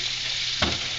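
Thick cream gravy in a pan being stirred over steady frying hiss, with a single sharp scrape of the spoon against the pan partway through.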